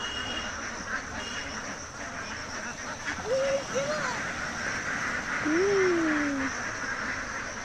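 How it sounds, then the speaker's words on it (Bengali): A few duck quacks ring out over a steady outdoor background hum at a pond, two short calls followed by a longer drawn-out one. "উড়ে উড়ে আসছে হাঁস, গাড়ির থেকে ছেড়ে দিচ্ছে আর এই পুকুরে এসে পৌঁছাচ্ছে।"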